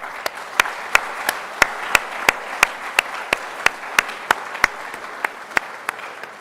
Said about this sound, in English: I would like us to give ourselves a round of applause.